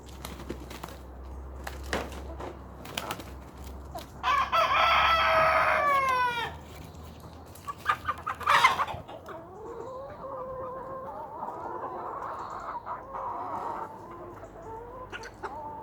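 Two hens fighting in a backyard flock break into loud, harsh squawks and a crowing burst, followed by rapid repeated clucking and scattered quieter calls against a low background hum.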